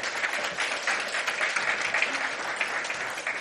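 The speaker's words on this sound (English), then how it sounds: "So please, give him a round of applause." A conference audience gives a full round of applause, a loud, dense roar of many hands clapping together that holds steady throughout with slight swells, and no speech on top.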